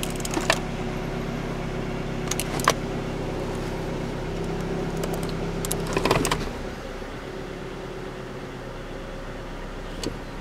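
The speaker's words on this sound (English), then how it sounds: "It sounds like something's rattling." A Ford Focus engine idles roughly, a steady low hum with harmonic drone and several sharp metallic rattling clicks, heavier around the middle before the engine note drops away.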